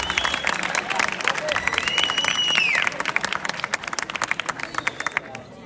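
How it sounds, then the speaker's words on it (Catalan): Audience applause at a high school's Sant Jordi 2023 ceremony: dense, steady clapping with a few whistle-like tones riding over it, thinning into scattered individual claps toward the end. "Fort aplaudiment per a ells també"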